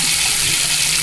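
Steady hiss of water running from a kitchen tap fitted with a homemade aerator flow limiter cutting flow to half, a continuous even gush with no talk.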